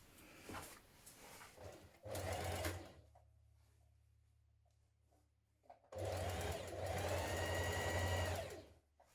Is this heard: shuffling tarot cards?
no